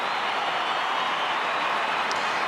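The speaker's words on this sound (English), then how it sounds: "The crowd up for the first time in this third term." A football crowd at a 2013 AFL match between Port Adelaide and Adelaide roars in a steady, dense wash of noise that neither swells nor breaks, heard from a distance with no voices standing out.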